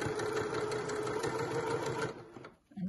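A sewing machine stitches a pyjama waistband, a close, steady rapid clatter of needle strokes running for about two seconds before stopping, followed by a faint soft rustle.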